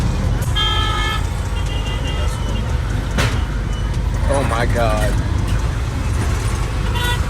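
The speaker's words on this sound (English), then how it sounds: "there's a whole bunch of motorcycles whizzing past within inches of each other" Busy street traffic in Ghana with motorcycles whizzing past close together, engines droning under short car horn toots, while a person speaks briefly over the din.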